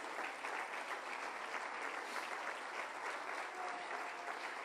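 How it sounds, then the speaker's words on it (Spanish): Church congregation applauding for Jesus at a pastor's sermon, a steady, dense wash of clapping from many hands that holds evenly throughout without pause. "Dale un fuerte aplauso al Señor Jesús."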